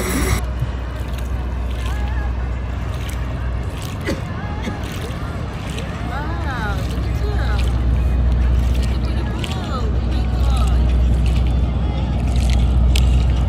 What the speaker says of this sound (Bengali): নৌকা তো আর লাফালাফির জায়গা না